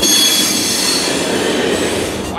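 An Amtrak Empire Builder train rumbles loudly and steadily close by, with a high metallic wheel squeal ringing over the constant roar.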